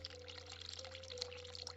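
Hot water running from a tap in the video game The Cat Lady, a steady soft pouring stream heard alone at low level for its short length.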